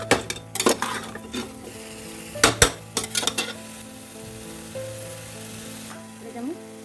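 Mutton pieces coated with ginger-garlic paste, salt and turmeric fry on high flame in a home kitchen, a low sizzle broken by sharp metallic clanks and scrapes of a spatula against the pan.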